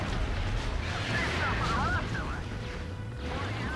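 Grenade blasts rumble through a Star Wars Battlefront II battle on Hoth as dense, sustained booming and crackling, loud and near, with scattered blaster-like chirps layered on top.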